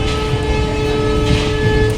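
Continuous rumbling and rattling of a train running on rails, loud and steady throughout, with a faint high hum over the rolling clatter.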